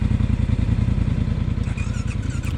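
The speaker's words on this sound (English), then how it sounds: "listen to this engine purr" A Polaris Sportsman 1000 ATV engine idles close by while reversing, low and rapidly pulsing, steady and throbbing, with faint clatter and a short higher whine near the end.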